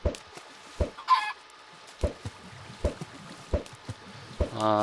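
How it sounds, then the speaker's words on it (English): Chickens in a video game cluck in short, sharp, separate bursts, spaced irregularly over a quiet background. "Chicken, stay out of the way."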